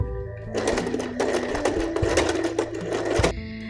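Janome sewing machine stitching zigzag over lace and fabric, a steady fast mechanical whir and clatter of the needle running continuously at close range.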